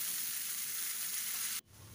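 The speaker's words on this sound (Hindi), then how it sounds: "डाल रही हूँ 1/2 टीस्पून जीरा एंड ये कद्दूकस किया हुआ अदरक और लहसुन। ये थोड़ा सा क्रैकल करेगा" Half a teaspoon of cumin with grated ginger and garlic crackles in hot oil in a kadhai, a loud, steady hiss of close frying that drops off sharply near the end.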